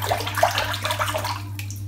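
A Mongoose SE razor being rinsed under running water, producing a steady close splashing hiss over a constant low hum, with no talking.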